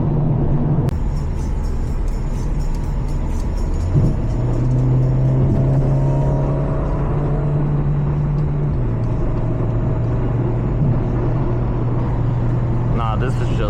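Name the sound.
car engine while driving a newly bought car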